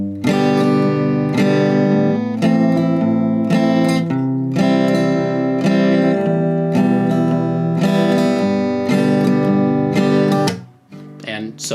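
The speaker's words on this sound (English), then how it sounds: "you will be strumming the root note of your chord," Acoustic guitar strummed close and loud, a single bass root note struck before each full chord, cycling through a four-chord loop in steady rhythm, the final strum fading into handling noise.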